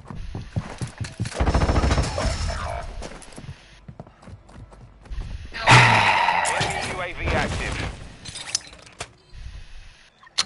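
Gunfire in a video game: a burst of shots, then another loud volley a few seconds later, with voices talking over and between them.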